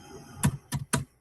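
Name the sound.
typing on a keyboard into the chat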